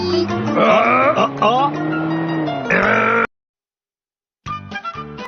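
A cartoon car in a Shinchan animated episode speeds away: squealing, revving tones whine for about three seconds, then cut to silence before a short burst of sound returns at the end.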